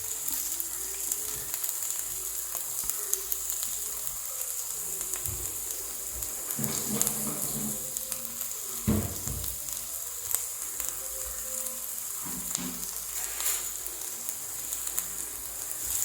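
Green chillies and cheese sizzle quietly in a pan for ema datshi, the Bhutanese dish, giving a steady soft hiss with scattered faint crackles and pops throughout.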